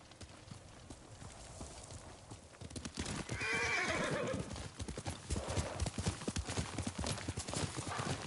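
In Ghost of Tsushima, hooves clip-clop steadily close by, then a horse lets out a loud whinny midway, with the clopping continuing afterward.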